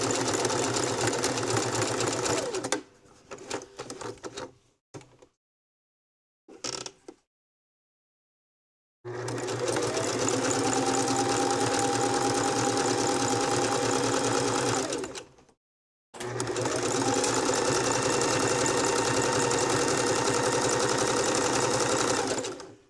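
A sewing machine stitches a fabric-covered rope bowl in fast, loud, close runs. Short stuttering bursts and silent pauses break them up, and two long continuous runs follow.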